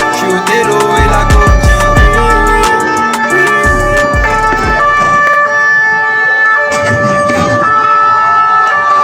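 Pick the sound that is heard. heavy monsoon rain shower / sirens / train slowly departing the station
sirens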